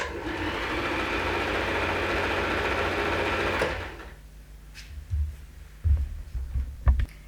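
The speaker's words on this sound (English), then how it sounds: "just sew across the bottom and then backwards and forwards when you get to the end there" Sewing machine stitching fabric for a stole or wrap, a steady close whirring run for about four seconds before stopping, followed by a few soft thumps and handling sounds.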